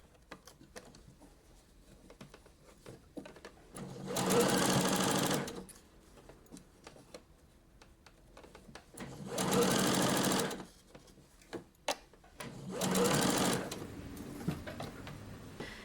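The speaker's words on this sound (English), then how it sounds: "now we're going to go back on the sewing machine and just sew it in 1 centimeter seam allowance" A sewing machine stitching a puff sleeve seam at a 1 cm allowance runs in three loud, steady whirring bursts of a second or two each, separated by quieter handling of the fabric.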